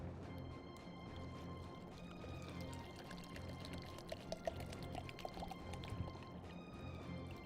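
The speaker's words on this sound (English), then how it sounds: "Now get a little bit of pouring water action" Water pouring into a plastic shaker bottle, a steady close trickle with a rising fill tone and a few small splashes, continuous and fairly quiet.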